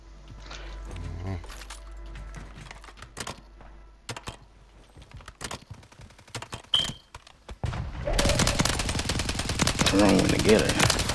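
Video game gunfire crackles in scattered single shots and short bursts, then becomes a loud, dense sustained burst near the end, with players talking over it.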